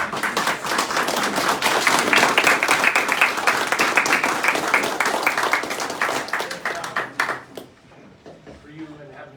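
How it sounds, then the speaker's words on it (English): A crowd at a community meeting gives Ivan a warm round of applause, dense clapping that swells, holds for several seconds, then thins into scattered claps as a voice begins over it. "We just got to give Ivan another big round of applause."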